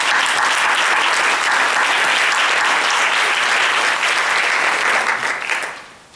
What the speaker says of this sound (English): and I applaud you.